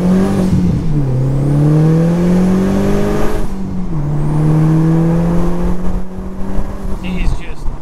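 Audi TT 1.8T fitted with a 3-inch downpipe, pulling from a stop through first, second and third gears: loud, close engine notes rise steadily, dip at each shift, then climb again.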